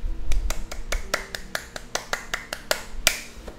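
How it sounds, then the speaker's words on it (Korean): A quick series of sharp, bright claps, about a dozen evenly spaced, close and crisp, with a final louder one. "박수 쳐드릴게요"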